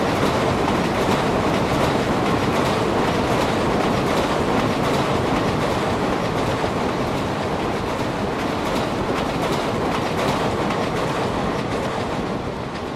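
A train passes in Indian Train Simulator (MSTS), a steady loud rumble with rhythmic clickety-clack of wheels over rail joints running continuously and alone.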